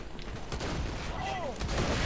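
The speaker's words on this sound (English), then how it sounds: "That was a massive explosion." A massive explosion in the video game Borderlands 2, a dense, loud rumbling blast with crackling debris and gunfire-like bursts filling the whole moment, with voices partly mixed in.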